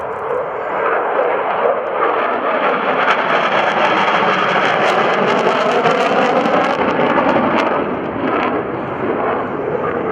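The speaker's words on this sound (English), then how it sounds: "Down low on the 500-foot line is the B1B Lancer in the low-speed takeoff and landing configuration." A Rockwell B-1B Lancer bomber makes a low pass at the 2012 JB McGuire-Dix-Lakehurst airshow in its low-speed takeoff and landing configuration. A loud, sustained roar of jet engines fills the whole stretch without a break.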